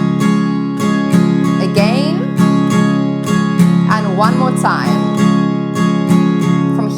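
Acoustic guitar strumming the verse chords of a song, starting on G, in a steady down-down-up-up-down-up pattern, close and full, with a voice counting and speaking briefly over the strums.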